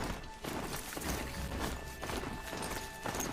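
Horse hooves clip-clop in a steady, even rhythm in a video game, moderately close over a soft background wash, with no talk.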